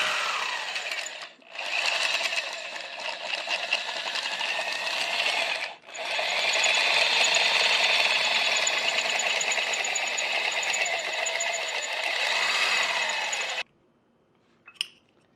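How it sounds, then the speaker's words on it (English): A drill bit bores a hole in the rear subframe of an E36 BMW, making a loud, sustained whirring grind in three long bursts with short pauses, then a brief metallic clink after it stops. "So after a lot of really hard pressing, we finally drilled through it."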